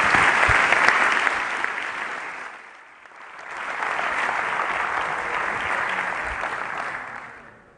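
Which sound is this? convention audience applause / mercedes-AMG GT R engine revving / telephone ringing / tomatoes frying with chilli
convention audience applause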